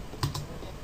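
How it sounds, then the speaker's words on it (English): A few quick keystrokes on a computer keyboard while typing a network reset command, two soft clustered taps close together in a quiet room with no talk. "So in here then you want to type netsh int IP"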